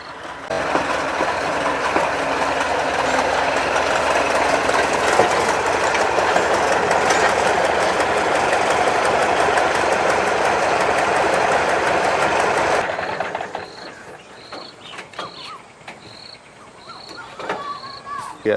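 A tractor engine in a farm field after sowing runs with a loud, steady mechanical drone, then cuts off abruptly, leaving quieter background noise.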